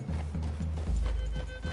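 Horse hooves clip-clopping at a walking pace in Red Dead Redemption, a close, regular thudding rhythm of several steps on ground outdoors among trees.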